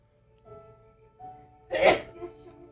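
A single sharp sneeze bursts out over a quiet background hum, loud and close.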